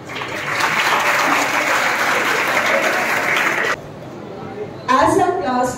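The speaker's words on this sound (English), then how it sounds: "please give a great round of applause for our most important stars of the" A crowd at a school farewell event for class 12 students claps loudly and steadily for nearly four seconds, then the clapping drops away and a voice begins speaking over a quiet room.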